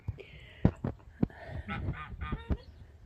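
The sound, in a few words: geese honking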